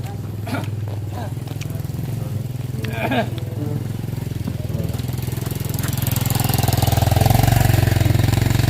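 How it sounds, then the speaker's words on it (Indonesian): A motorcycle engine rumbles and grows louder as it approaches close by, with a voice speaking over the start. "Ada motor, guys."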